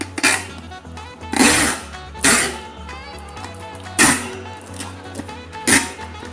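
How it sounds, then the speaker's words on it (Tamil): Packing tape is pulled from a handheld tape dispenser to seal a cardboard box, making four loud, rasping tearing zips, each a second or two apart, with quieter handling noise between them. "இது வந்து ஃபுல்லாக நம்ம வந்து டேப் பண்ணிட்டோம்"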